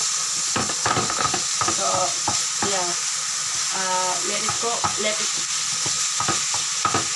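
Minced beef sizzles and fries in a pan, with repeated scraping of a spoon or spatula stirring it and a constant hiss of frying underneath.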